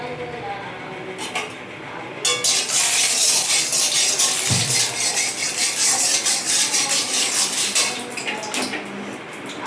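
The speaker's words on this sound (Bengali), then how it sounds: "আমি ডালটা আগে ভেজে নেব।" Mung dal is stirred and fried in a pan, giving a steady bright rustling hiss with clinks and scrapes of a utensil against the metal, close and fairly loud.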